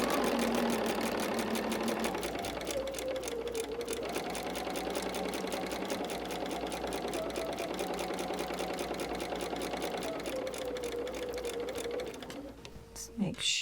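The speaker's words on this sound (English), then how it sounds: "let's go sew our final seam" A sewing machine runs a final quilting seam with steady, rapid stitching for most of the stretch, under a speaking voice, then slows and stops near the end.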